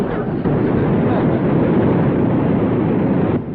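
An old truck's engine revs hard and steadily while its wheels spin in mud, a loud, continuous roar that holds from start to finish and drops off sharply at the end.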